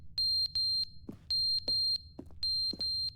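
A smoke alarm beeps in The Stanley Parable video game, sharp high pairs of beeps repeating in a steady pattern, loud and close, with quiet clicks between them.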